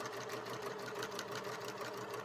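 A sewing machine stitches a fabric basket in one steady, continuous run, a close and even mechanical whir with a dense rapid rhythm and no voices over it.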